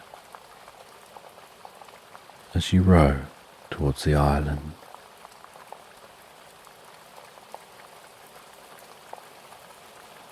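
A soft, even bed of falling rain hisses steadily from start to finish, staying low and constant while a calm voice narrates briefly in the middle.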